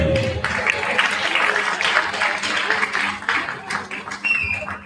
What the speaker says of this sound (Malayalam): കണ്ടസ്റ്റന്റെ കയ്യടിയോടുകൂടി